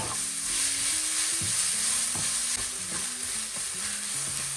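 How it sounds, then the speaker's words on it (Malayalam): A crushed spice mix fries in hot oil in a pan with a loud, steady, close sizzle. Occasional stirring knocks and scrapes break through the continuous hiss. "അതിട്ട് കൊടുക്കാം. നല്ലപോലെ മൊരിയട്ടെ കേട്ടോ"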